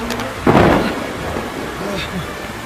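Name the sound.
thunderstorm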